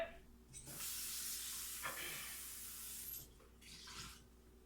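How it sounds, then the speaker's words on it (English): Running tap water splashes and hisses into a lye bucket during a rinse-out after soap making, a steady close spray with brief dips and surges, no talking over it. "I'm going to rinse out my lye bucket real quick"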